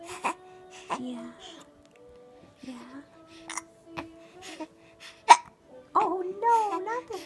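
A small child hiccuping indoors late at night, several sharp short hiccups scattered between soft babbling and whimpers, with an adult speaking briefly.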